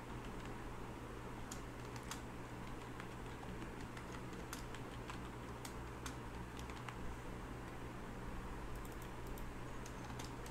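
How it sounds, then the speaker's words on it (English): Someone types a password on a computer keyboard, with quiet, scattered key clicks in irregular bursts over a constant low fan hum. No one speaks. "Let's type a random password."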